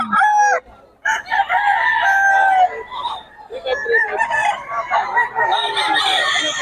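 Several roosters crow loudly and close by at a poultry stall in Bocaue, with overlapping calls and some clucking; someone talks intermittently.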